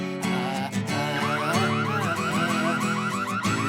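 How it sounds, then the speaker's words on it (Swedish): A car alarm blares loud and close with a continuous warbling, cycling electronic tone that fills the whole stretch. "Skulle ingen fixa larmet?"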